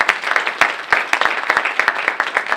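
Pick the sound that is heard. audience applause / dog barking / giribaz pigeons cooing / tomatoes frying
audience applause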